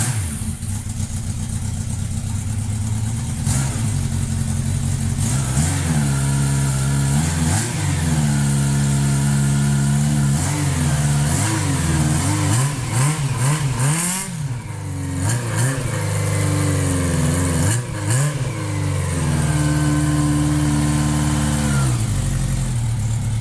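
A Honda Nighthawk 750 motorcycle engine, part of a budget cafe racer build, runs loudly and steadily with repeated revs rising and falling over a continuous idle, heard alone without talk.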